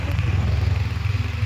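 A motorcycle runs close by with a low, throbbing engine rumble and a steady pulsing beat as riders set off, loud and continuous throughout.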